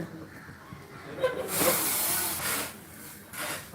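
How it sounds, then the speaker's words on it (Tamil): A steady hiss of tea boiling in a pot rises and holds for a couple of seconds, then fades and returns briefly, heard close with no talking. "டீ கொதிக்குது"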